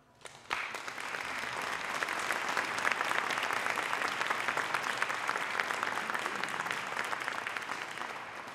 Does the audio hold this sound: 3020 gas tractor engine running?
no